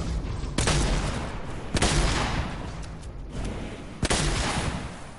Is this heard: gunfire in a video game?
yes